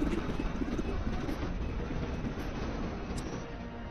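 A helicopter in a film chase scene, its rotor and engine roaring steadily up close, a continuous dense drone with faint voice-over narration running beneath it.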